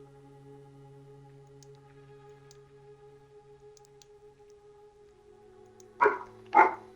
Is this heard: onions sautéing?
no